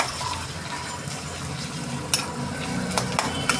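Chillies sautéing in a pan make a soft, steady sizzle, with a few sharp clinks of a utensil against the pan near the end.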